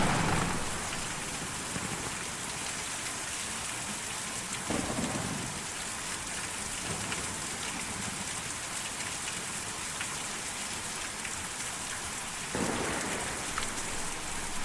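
A heavy rainstorm in Kentucky Route Zero hisses steadily, a dense wash of falling rain with low thunder rumbles swelling near the start, middle and end.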